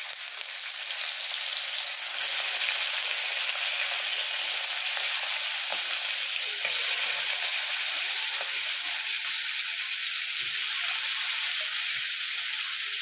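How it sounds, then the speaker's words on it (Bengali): Salted prawns fry in a pan of hot oil, giving a steady, dense sizzle with a fine crackle and spatter that holds evenly throughout, close and alone with no talking. "এই তেলটাতেই আমি চিংড়ি মাছটা এবার ভেজে নেব।"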